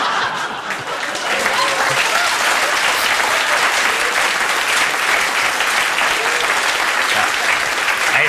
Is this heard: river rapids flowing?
no